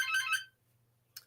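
A phone ringtone plays one short electronic burst of trilling tones, then cuts off, followed by a brief faint chirp after a quiet pause.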